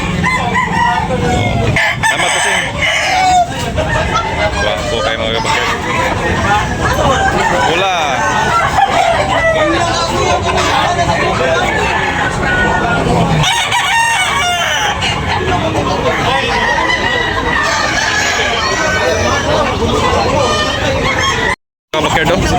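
Many roosters crow and cluck loudly and continuously at a crowded fighting-cock market in Talisay, Cebu, overlapping calls close by with people talking among them.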